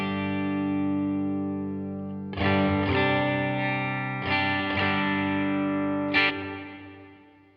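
Sustained chords from a relic-style Telecaster electric guitar through an amp ring out with a washy reverb tail, a few fresh strums landing over the lingering decay, fairly loud and close.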